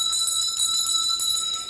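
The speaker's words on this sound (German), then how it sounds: "immer, wenn Sie diese Glocke hören" A bell rings with a sustained bright metallic tone on a German game show set, steady and loud for nearly two seconds with no voices over it.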